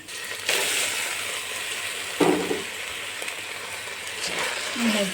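Washed rice tipped into a cooking pot for peas pulao, with a sharp hiss and sizzle as it lands in the hot fat, followed by stirring and rustling under a voice.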